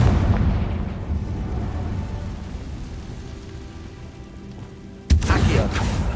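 A Confringo fire spell explodes in Hogwarts Legacy, with a sharp loud blast bursting out near the end over a steady rushing, rain-like background rumble that fills the rest of the stretch.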